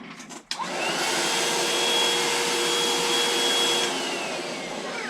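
A Topshak cordless rechargeable electric paint spray gun switches on after a brief click and holds a loud, steady high-pitched whirring hiss for several seconds, close by and alone.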